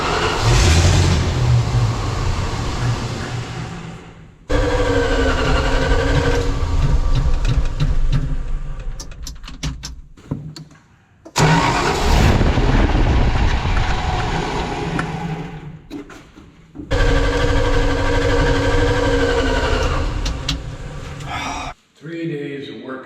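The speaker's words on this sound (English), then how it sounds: "It'll start on ether and then it'll quit right away." The engine of a Snow Cat tow truck fires on ether and revs in several loud bursts, each one fading out as it dies again, with brief gaps between attempts and speech mixed in.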